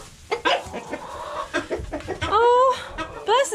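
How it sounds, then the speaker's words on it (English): A rooster kept outdoors at a campsite clucks and calls in short rising bursts, close by, mixed with rustling and a person speaking briefly. "He's picking on my rooster."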